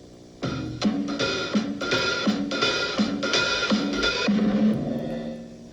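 A drum kit plays a steady two-beat pattern, with a snare-like hit falling regularly about every 0.6 seconds and cymbal wash ringing over it, moderately loud.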